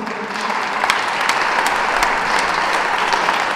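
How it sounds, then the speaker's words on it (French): A crowd at a Parisian memorial thanksgiving service honouring Nkotti François applauds in a dense, sustained round of clapping with a few sharper claps standing out. "d'applaudir une fois de plus ce grand homme"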